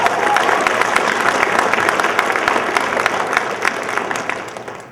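A crowd applauds at a sports hall of fame ceremony, steady dense clapping that stays loud throughout and tapers slightly toward the end.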